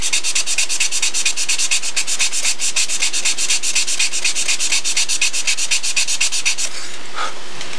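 Sandpaper rubs steadily over wood in fast, even back-and-forth strokes. The rasping is loud and close and keeps a tight rhythm for most of the stretch before trailing off near the end. No voices are heard.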